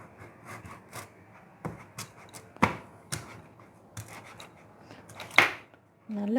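A knife slices thin pieces of peeled elephant foot yam on a board in a home kitchen, a series of irregular crisp cuts and scrapes with a few louder chops, close and without talk.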